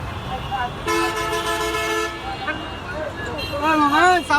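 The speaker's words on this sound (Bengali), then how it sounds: "আমরা বাস স্ট্যান্ড আইসা পড়ছি, অনেক শব্দ কাউন্টারে" A noisy bus stand carries repeated vehicle horn toots, one long blast and several short wavering honks, over a loud background of traffic, with voices talking nearby.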